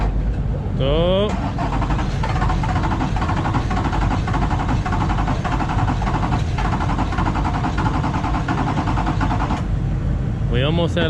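Loud, rough diesel rumble of an LB7 Duramax engine cranking and catching, running unevenly near idle, with a starter whine at the beginning and end and voices talking over it.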